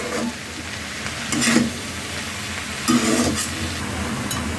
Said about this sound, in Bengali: এখন আমি উল্টা টাইপের বেজে নেবো শাকটা